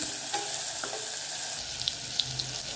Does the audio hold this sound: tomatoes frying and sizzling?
yes